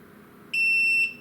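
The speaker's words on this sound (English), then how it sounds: "Once you hear that beep, you're ready to connect the machine to the app." A LokLik iEngrave engraving machine powers on with one clear, high electronic beep lasting about half a second over a quiet background.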